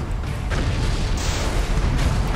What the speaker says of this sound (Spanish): Ah, sí, disparo cohetes.